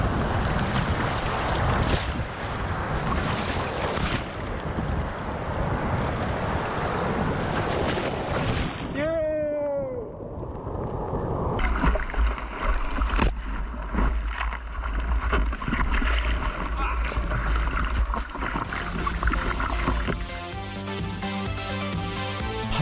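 Ocean waves on the Jeju coast where a surfer rides, a broad roaring wash of surf mixed with wind rushing across the microphone, giving way around the middle to music that carries on to the end.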